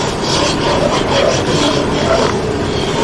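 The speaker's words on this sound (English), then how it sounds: "we break up cornstarch with pliers" Pliers grind and rasp against lumps of cornstarch in a pot of beef stew cooking outdoors on a Weber grill in winter, a loud continuous scraping and rubbing close up with no talking.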